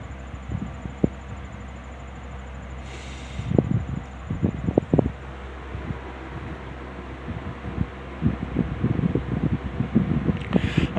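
A Wizard box fan fitted with new bearings runs steadily in a room, producing a constant airy whoosh with a faint high whine, broken by a few light knocks and handling sounds.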